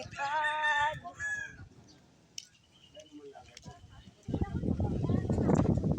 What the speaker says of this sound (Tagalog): Yan, may mga ibon.